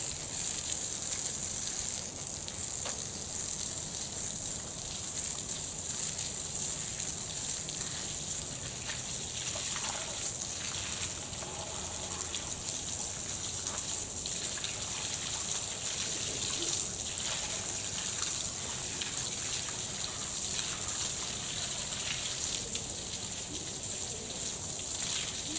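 Water pours and splashes continuously during a ritual washing demonstration, a steady hissing gush with faint trickles, moderately loud and without clear speech over it.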